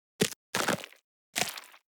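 Layered gore sound effects with light EQ trimming low end: three crunchy, wet impacts, the first a sharp crack and the next two longer fleshy squelches tailing off, alone between silences.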